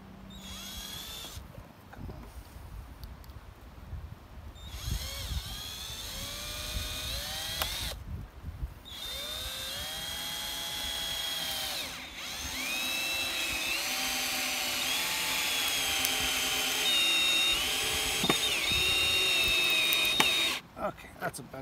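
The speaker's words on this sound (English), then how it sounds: "I might just put one more screw in it somewhere" A power drill drives a screw into a wooden beekeeping swarm box outdoors, its motor whining up and down in pitch through several bursts, brief pauses between, with some rustling and handling noise.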